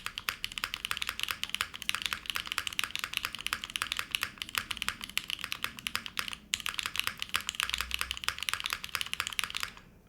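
Steady, fast typing on a Petrichor mechanical keyboard built with gaskets and no foam, a dense run of close, crisp keystrokes with one short pause and no talking.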